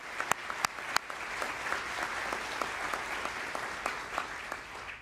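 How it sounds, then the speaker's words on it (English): An audience applauds recipients of the 2024 Secretary of State's Human Rights Defenders Award at a ceremony, dense crowd clapping with a few sharp close claps at the start, continuing steadily throughout. "Let's give them a round of applause."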